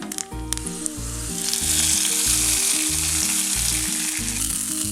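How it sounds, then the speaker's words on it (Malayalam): A hot mustard tempering of coconut oil, onion, dried chilli and curry leaves hits a ripe mango curd curry, swelling into a loud, sustained sizzle after a few clinks, with background music underneath. "ഇത് കറിയിലേക്ക് ഒഴിക്കാം."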